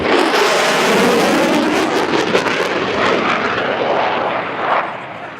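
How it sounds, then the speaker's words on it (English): An F/A-18 Super Hornet jet making a high-speed pass at an airshow, a loud, broad engine roar that fills the air and slowly shifts and fades as the aircraft passes. "the Super Hornet approaches, accelerating towards the speed of sound. Ladies and gentlemen, the Rhino high-speed pass."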